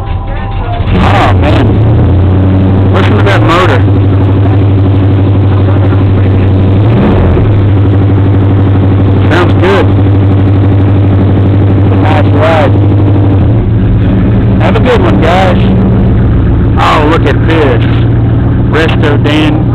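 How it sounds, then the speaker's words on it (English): An old 1954 Dodge engine at a fairground car show in Oklahoma City idles with a loud, close rumble and is blipped in several short revs, with voices talking over it. "Listen to that motor."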